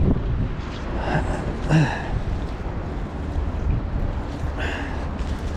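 Steady, blustery wind rumbles across the microphone throughout, a broad low roar with a few brief higher whooshes; no one speaks.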